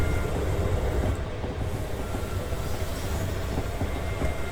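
An intercity Virgin Trains service rumbles past on British rails, a steady loud roar of wheels and rolling stock filling the whole stretch with faint clicking underneath and no voices.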